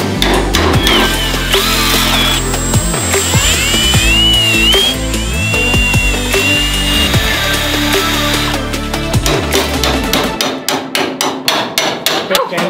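Battery drill working rusty metal on a barn-find Ford Mustang, loud and close, with a whining motor and grinding chatter that gives way to a rapid series of sharp repeated impacts near the end.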